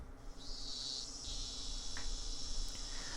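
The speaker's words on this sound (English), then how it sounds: "I stayed there alone, my body bathed in the lively voices of the cicadas." Cicadas drone in a continuous high, shimmering chorus from the video game Higurashi When They Cry, steady and fairly soft, with slight shifts in pitch and intensity and no voices.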